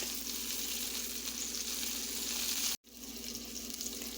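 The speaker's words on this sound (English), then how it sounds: "I wanted to bring you out in the frying pan real quick so you can see what the squash is looking like while it's frying" Squash pieces frying in a pan, a steady close hiss and crackle of hot oil that holds constant, briefly cut off by a sharp dropout near the end before the sizzle resumes.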